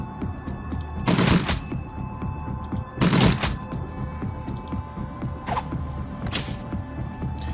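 Gunfire in the Shadowrun Dragonfall video game: two short, loud bursts of shooting half a second long stand out about two seconds apart over a steady low hum, followed by a fainter crack.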